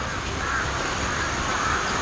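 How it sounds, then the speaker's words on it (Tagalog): Crows cawing outdoors in a dense, steady wash of sound, with no clear gaps, heard alone without talk. "Uwak man kasi itong mga ibon na to eh."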